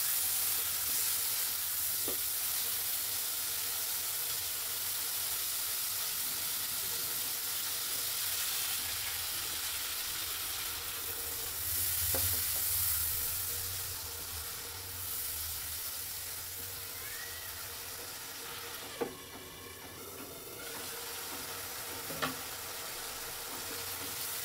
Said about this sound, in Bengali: মাছ এই মশলার মধ্যেই ভালো করে কষিয়ে নিব।